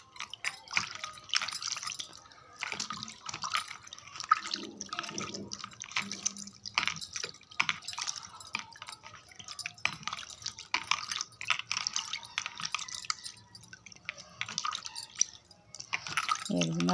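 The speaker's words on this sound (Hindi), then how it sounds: "इसके बाद नॉर्मल पानी लेकर आपने इसको अच्छी तरह से वॉश कर लेना है" Face being washed with plain water after scrubbing, with irregular splashes, drips and wet hand rubbing close by, moderately faint and continuous, with some voice in the background.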